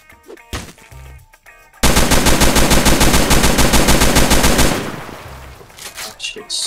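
Loud automatic gunfire in the Roblox game Fallen, a rapid, evenly spaced burst of shots lasting about three seconds, with a few quieter sounds before and after.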